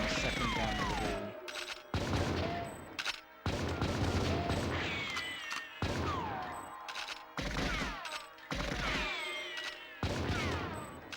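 Gunfire from the video game Goldeneye: 00 Agent, loud bursts of rapid shots repeating in roughly two-second volleys with short gaps between them and no talking.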